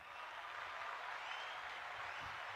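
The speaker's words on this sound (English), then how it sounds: "You get some claps." Faint, distant clapping from a small audience on a live talk show rolls on evenly for a couple of seconds, soft and low in level.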